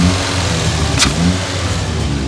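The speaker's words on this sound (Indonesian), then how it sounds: "Jadi dia bunyi vakumnya kan kedengaran lebih keras karena dia kan open filter." A car engine with an open air filter revs hard, its intake vacuum roaring loud and close in one sustained burst, with no talking.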